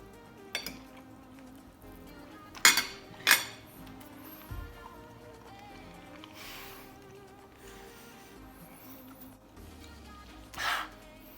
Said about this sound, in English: just cutting through the ribeye, it is just so tender